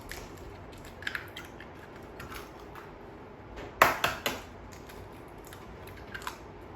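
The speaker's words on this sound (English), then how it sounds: "You're gonna crack 3 eggs." Eggs cracked into a large bowl while making a chicken and broccoli quiche: a few faint taps and clicks, then one sharper crack with a short wet crunch, close and quiet against a soft background hiss.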